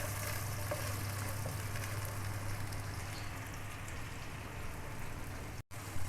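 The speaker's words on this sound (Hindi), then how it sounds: "उसके अंदर हाफ दरमियाना प्याज से चॉप किया हुआ ये डाल देंगे। फिर थोड़ा सा ही भूनेंगे हम।" Chopped onion fries in a kadhai with a steady, even hiss of sizzling oil, close and continuous, cutting off briefly near the end.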